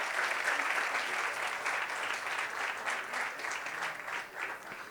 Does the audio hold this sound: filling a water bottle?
no